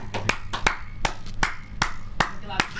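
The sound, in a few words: one person clapping hands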